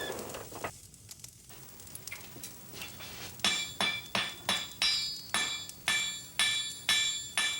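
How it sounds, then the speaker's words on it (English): Blacksmith hammering at a forge in the streets of La Malbaie, Charlevoix, Québec: after a quieter, muffled start, about a dozen sharp ringing metallic blows strike in a steady rhythm, clear and bright above low background noise. "The hammering of the blacksmith forge rings as a distant voice over the streets of La Malbaie."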